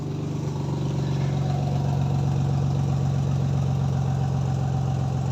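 A BMW 328i fitted with a custom exhaust line runs at a steady idle, its deep, even burble loud and close, with no revving and no talk.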